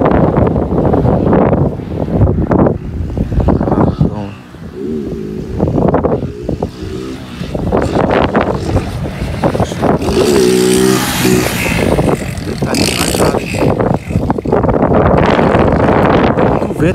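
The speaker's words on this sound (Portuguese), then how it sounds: "Detalhe, vento, rapaziada." Strong wind batters the microphone outdoors with loud, continuous rumbling buffeting and gusts, and a motorcycle engine is also audible through it, with no clear speech.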